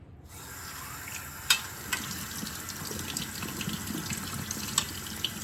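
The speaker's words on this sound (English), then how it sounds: "we have some beautiful tomatoes here. So I'm gonna get these washed up" Fresh tomatoes are washed under running water, a steady faint gush of flowing tap water with occasional light knocks and clicks, close and quiet.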